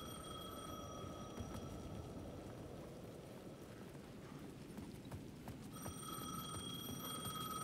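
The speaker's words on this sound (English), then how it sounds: "The payphone at the edge of the plaza was ringing again." In Alan Wake 2, a payphone rings at the edge of a plaza, its bell sounding at the start and again near the end. The rings are faint and sit over a steady clattering, rain-like background with no speech.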